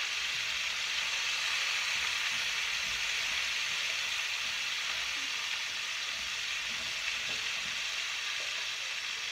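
Venison pieces frying in a pan give a constant, even sizzle with faint scraping as they are stirred, moderately quiet and without voices.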